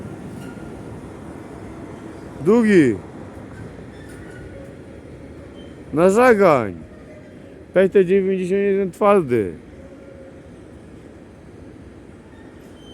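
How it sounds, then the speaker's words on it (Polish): A train rumbles steadily along at a constant low roar through a forest near a viaduct, while someone speaks in short bursts over the passing cars. "Jedzie pociąg."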